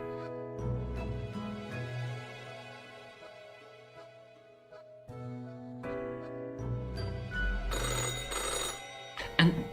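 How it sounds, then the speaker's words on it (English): An old-fashioned telephone rings loudly with a harsh, metallic bell clatter, sounding in bursts over a sustained tonal musical background that swells toward the end. "the old-fashioned phone suddenly rings with an ear-piercing metallic clatter"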